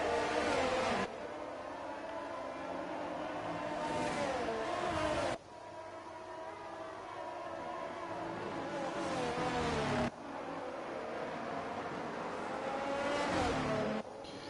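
Race cars in the F1 22 game roll around Imola on a formation lap, a steady engine drone with a few swells in revs, fairly faint and continuous with no talk.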